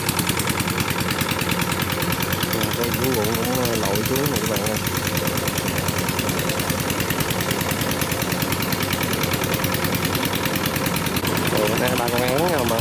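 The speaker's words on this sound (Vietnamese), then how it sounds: "động cơ máy bơm nha." Water pump engine running at a flooded rice field in the Mekong Delta during harvest, a steady mid-pitched chugging drone with rhythmic knock, continuous under someone talking.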